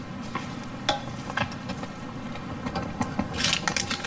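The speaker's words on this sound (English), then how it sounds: "It's boiling" Water coming to a boil in a small pot on a little hot plate at an off-grid cabin, a quiet, steady bubbling hiss with small pops and ticks, close and alone.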